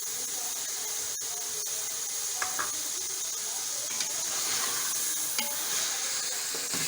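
Green chilies and chicken masala fry in a pan with a steady close sizzle and hiss, broken by a few soft stirring scrapes throughout.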